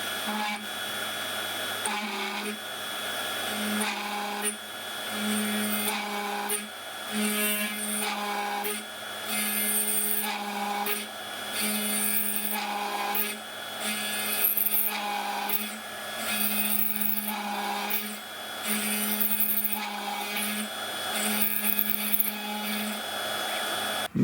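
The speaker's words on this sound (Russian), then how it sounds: "Осталось отверстие присверлить." A CNC 1419 machine drills two holes in a small metal part for a miniature machine vise, giving a steady whining motor tone with repeated short pauses and restarts as each pass runs.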